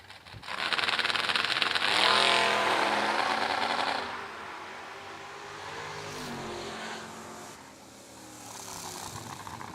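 A Malibu drag race car launches at a drag strip with a loud, roaring burst of acceleration, then fades as it pulls away down the track, followed by a second engine surge further off.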